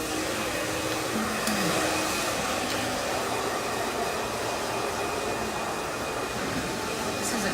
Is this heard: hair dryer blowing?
yes